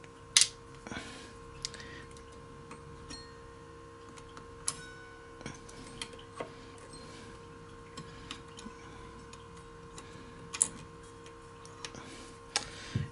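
Truss rod cover being unscrewed from a Chapman ML-2 electric guitar, small scattered ticks and clicks of a screwdriver and cover close up, with quiet pauses between them.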